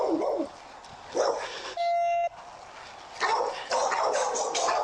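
A dog barks and yips in short bursts while charging a police sergeant, the barks loud and close, broken by a brief steady electronic tone and followed by louder rough noise.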